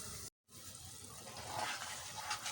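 Water pours steadily into a pan of ground chili and spices for dhaba-style dal. After a brief cut to silence, it runs as a soft, continuous rushing stream.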